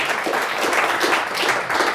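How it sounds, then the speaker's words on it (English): Audience applause for two tied quiz bowl teams, Flushing and Linden, a short, even wash of clapping in a hall with no speech over it. "Nice round of applause for both teams."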